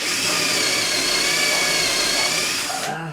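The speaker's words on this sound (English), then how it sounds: "Get your drill again, next to it. Press hard on it." A power drill whines steadily as it is pressed hard into polystyrene with wood behind it, a close, loud, continuous motor tone that cuts off abruptly near the end.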